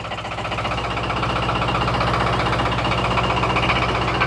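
A 25 hp four-wheel-drive small tractor engine with power steering and oil brakes runs at a steady idle nearby, a continuous rhythmic knocking rumble with no talking.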